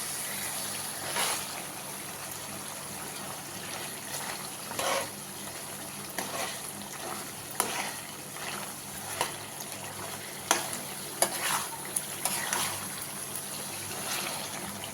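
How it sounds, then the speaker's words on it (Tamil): Steady sizzling and frying of chicken chukka in a pan, with scattered metallic scrapes and clinks of stirring, close and continuous with no talking. "நல்லா வதங்கிட்டு வருது."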